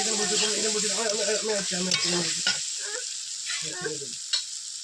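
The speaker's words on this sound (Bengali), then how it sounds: "ভালো করে মশলা কষিয়ে নেবো" Spices for mutton curry sizzle in hot oil as they are stir-fried, a steady close frying hiss with spoon scrapes, while someone talks briefly at the start.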